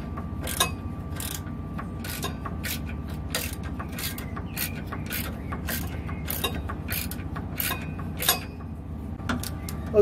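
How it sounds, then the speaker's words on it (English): A socket wrench works loose a 10 millimeter bolt on a Nissan's evaporative emission system, giving a run of quick, sharp ratcheting clicks in bursts over a steady low mechanical hum, close and moderately loud. "So we just want to release this 10 millimeter bolt."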